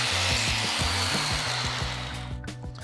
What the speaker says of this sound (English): I'll grind the welds down on the bottom to accommodate the casters.